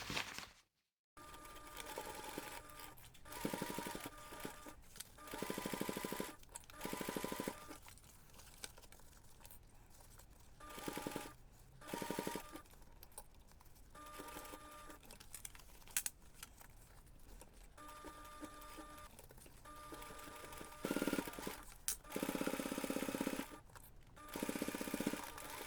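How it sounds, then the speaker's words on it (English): A sewing machine stitches through laptop bag fabric in short bursts that start and stop repeatedly as the fabric is readjusted between runs, close and fairly steady, with quiet pauses and light handling noise in between. "I'm going to take my time at the machine and readjust"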